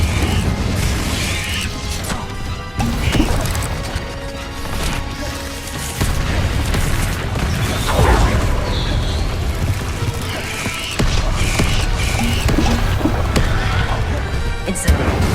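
Confringo blasting spell explosions in Hogwarts Legacy combat: repeated loud booming bursts and crashing impacts over dense, continuous game noise, with brief shouted voice fragments in between.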